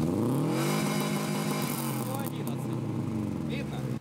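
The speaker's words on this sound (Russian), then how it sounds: "Еще одна мода, которая преследуется административным кодексом – излишне шумные машины." A loud modified car engine revs up with a rising roar past 110 dB on a sound meter, then holds at a high, rough drone before cutting off, with a voice talking over it.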